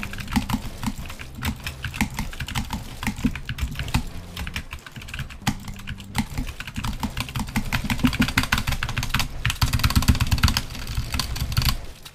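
A computer keyboard is played hard during a gaming session. A steady clatter of fast keystrokes sits close and loud over a low rumbling hum, with no voices.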